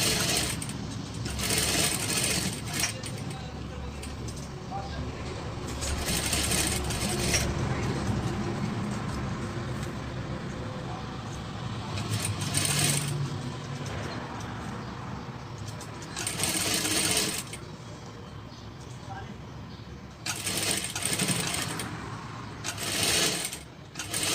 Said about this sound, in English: Now stitch it, continue from all the sides at the edge of this mask.